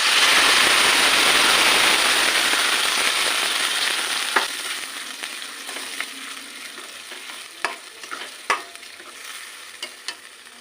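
Spice paste hits hot oil for a pointed gourd mash, giving a loud, steady sizzle that fades after a few seconds into quieter frying with scattered sharp clinks of stirring.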